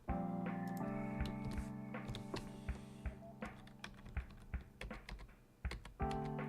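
Rapid typing on a computer keyboard while coding a roguelike, a busy run of crisp key taps and thunks over a steady electronic hum, close and fairly loud, with brief pauses near the end.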